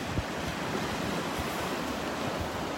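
Ocean surf washes onto a beach in North Naples, Florida, on a morning beach walk, a steady broadband roar of waves with some wind noise and no voices.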